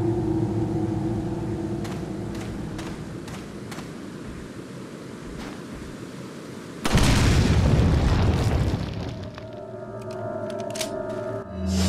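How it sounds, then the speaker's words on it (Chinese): A bomb explodes in the video game Resident Evil 4 Ultimate HD Edition: a sudden loud rumbling blast over ongoing game ambience and scattered clicks, decaying over a few seconds into a lower background drone. "等一下，我听到炸弹声音了。"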